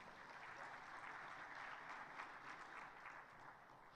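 An audience claps for the panelists and moderator at the end of a CHOGM 2022 session on future cities and sustainable urbanization, a quiet, even patter of applause heard from some distance.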